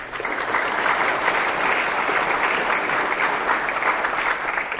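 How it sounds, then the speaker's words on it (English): Residents clapping at a public water meeting, a continuous, fairly loud round of applause from a room of people, even in intensity from start to finish. "I think they deserve a big clap for all that they do"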